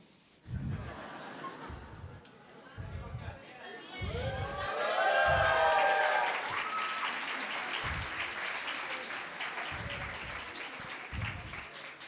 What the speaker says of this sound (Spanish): Me siento muy honrado por vuestros aplausos